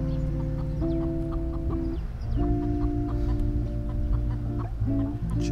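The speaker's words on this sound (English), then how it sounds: "Chicken just chilling." Chickens cluck steadily in a village in South East Turkey: a close, loud run of sustained clucks and warbling calls, with a short gap in the middle, continuing for over five seconds with no talk.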